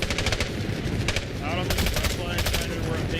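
Gunfire in Hell Let Loose: Vietnam, rapid bursts of automatic shots cracking loudly in close succession over a dense battlefield rumble, with faint voices mixed in.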